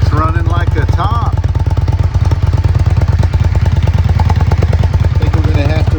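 A 2006 Yamaha V Star 650 V-twin runs at a loud, close, steady idle with a fast, even throbbing pulse and a rattling mechanical clatter, and a voice is heard briefly over it.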